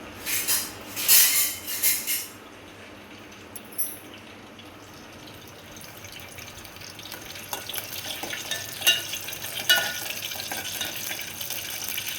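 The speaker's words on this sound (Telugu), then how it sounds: "తాలింపు అయితే వేస్తాను" Tempering for a chutney frying in a hot pan, sharp crackling sizzle bursts at the start easing into a steady hiss with scattered pops, close and alone.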